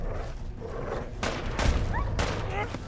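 Gunfire in the Fallout 4 video game, a few sharp shots and bursts cracking over a low rumble, with someone talking.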